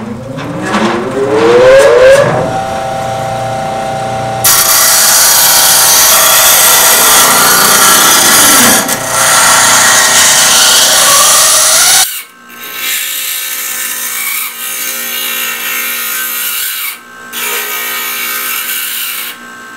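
A power grinder grinds the teeth off a steel saw blade, loud and continuous with harsh broadband rasping that shifts in pitch as passes change, then drops into lighter, intermittent grinding.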